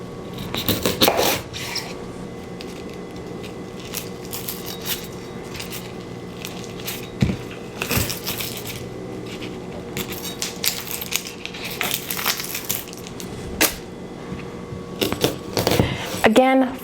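A knife finely dices a red onion on a cutting board, giving irregular, crisp taps and clicks that come and go close by over a steady room background.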